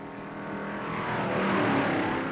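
1958 NASCAR Grand National stock cars run at full throttle down the beach at Daytona, a dense, steady engine roar that swells slightly as it goes, with no talk over it.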